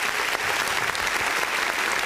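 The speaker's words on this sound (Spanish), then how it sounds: "¡Aplauso!" A television studio audience applauds for a news segment guest, a steady wash of close, bright clapping that runs unbroken for two seconds.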